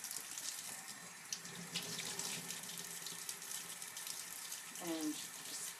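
A faucet runs into a sink as a makeup brush is rinsed under it, a steady close splashing stream that stays fairly quiet, with a short high squeak near the end.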